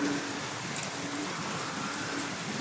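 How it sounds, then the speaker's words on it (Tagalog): Heavy rain pours without pause over a flooded backyard, a dense, steady hiss of drops spread evenly through the whole stretch, with no voices. "Walang tigil yung ulan mga idol."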